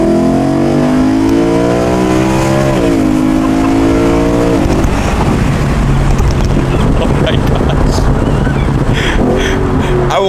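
A BMW M3 engine revs loudly from inside the car, rising in pitch through the gears, then drops sharply on downshifts into a rough, rumbling burble that dominates throughout.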